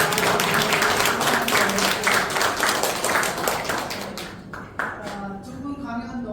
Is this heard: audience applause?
yes